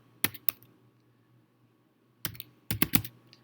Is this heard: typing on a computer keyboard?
yes